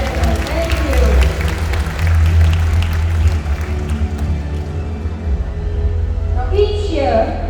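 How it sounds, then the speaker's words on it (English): An audience claps and cheers after a birds-of-prey flight demonstration at a bird park, a steady wash of applause under a presenter's voice, with a bird call near the end. "Let's give Sapphire a big round of applause"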